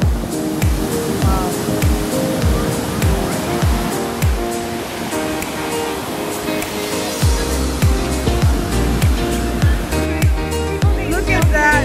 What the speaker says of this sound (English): The waves are too strong today because it rained like crazy last night.